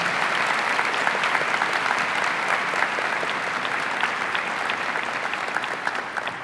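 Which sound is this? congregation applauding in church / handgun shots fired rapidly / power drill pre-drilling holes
congregation applauding in church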